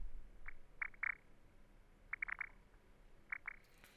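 Analog-engine preset on the Arturia Pigments 3 software synth producing a frog-like croaking effect: short chirpy blips, singly and in quick clusters with gaps between, fairly soft and alone.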